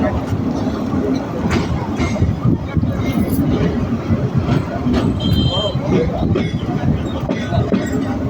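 Rumbling interior noise of a Narayanganj commuter train pulling away from Fatullah railway station in Bangladesh, a low continuous roar with rattling, under a person talking nearby.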